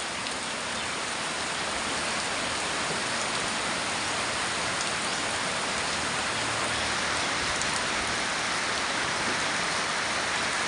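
Steady, dense rainfall pours down on rice fields without pause, an even hiss of countless drops hitting the ground and water nearby.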